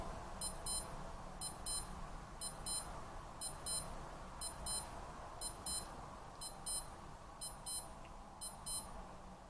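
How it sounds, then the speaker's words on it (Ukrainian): A Skmei 1988 digital wristwatch sounds its alarm as repeated pairs of high, thin electronic beeps in a steady rhythm, close and fairly soft over a hissy background. "дочекаємось, поки він спрацює"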